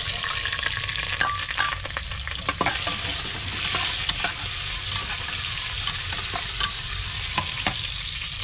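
Garlic and ginger fry in hot cooking oil with a steady, crackling sizzle and occasional scraping from stirring, close and continuous with no talk.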